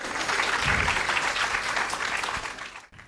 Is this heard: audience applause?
yes